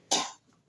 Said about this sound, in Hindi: खांसी हुई है?